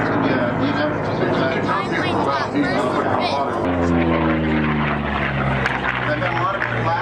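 An Allison-engined racing airplane roars at the Reno Air Races. A loud propeller drone sweeps past with falling pitch partway through, and voices are heard over the engine noise.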